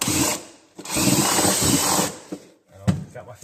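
A power drill bores a hole through a wall during an electrical service call, whining in two loud, sustained bursts with short pauses between them, followed by a brief whir and some clicks and handling noise.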